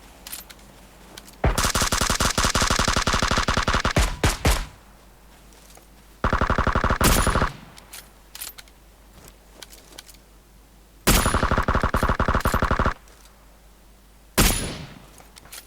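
Video game gunfire in three long sustained automatic bursts with quieter gaps between them and a short burst at the end, loud and close, with no talking.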